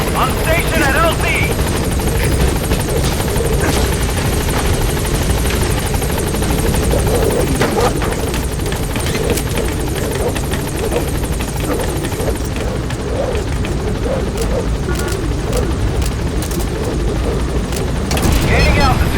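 B-Quad helicopter arriving at a landing zone in Metal Gear Solid V: The Phantom Pain, a loud, steady rotor roar with dense chopping throughout, under intermittent radio voice chatter.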